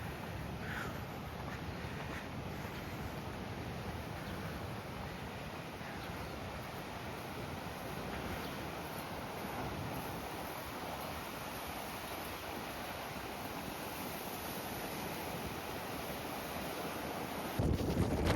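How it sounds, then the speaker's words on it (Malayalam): Steady wind blowing across the mouth of the microphone at Murrays Bay beach in Auckland, a continuous loud rushing roar mixed with faint surf that holds for the whole stretch, with no one talking. "ഇവിടെ ഇപ്പൊ നല്ല കാറ്റ് വീശുന്നുണ്ട്."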